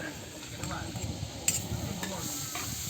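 Ingredients for goat kaldereta frying in margarine in a pan: a soft, steady sizzle with light stirring clinks and scrapes of a utensil, fairly quiet and a little distant.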